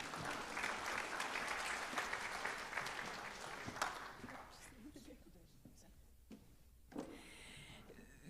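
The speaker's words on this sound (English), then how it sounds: "I guess you can go ahead and clap." Audience applause at a high school senior awards night honoring the senior class, with dense clapping for about four seconds that thins into scattered claps, with faint talk and shuffling as it dies away.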